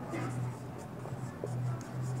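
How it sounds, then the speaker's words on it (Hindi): Chalk or marker scratches across a classroom board in short strokes during a chemistry lesson on latent heat, with faint background hum and a teacher speaking at times. "यहाँ मैं लिख देता हूँ"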